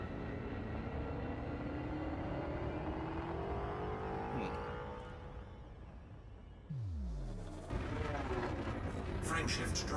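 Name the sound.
ship frameshift drive charging in video game Elite: Dangerous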